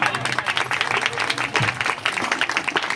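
Applause from a wedding audience after a husband and wife are declared married, a dense steady patter of many hands under a church officiant's voice.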